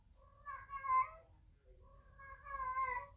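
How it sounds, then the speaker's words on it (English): A pet cat meows twice, two drawn-out, close and fairly quiet calls separated by a short pause over faint low background noise. "My cat, it wants some sex."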